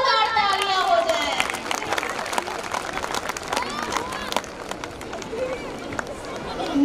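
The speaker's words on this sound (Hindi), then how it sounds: "इन बच्चों के हौसलों के लिए एक बार जोरदार तालियां हो जाए।" An audience at a school annual function applauds children performing a dance drama, a broad wash of clapping mixed with shouts and crowd chatter, fairly loud and sustained, easing slightly toward the end.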